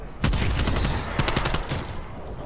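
Gunfire in a competitive shooter video game match, a close burst of rapid shots with a few sharper cracks standing out.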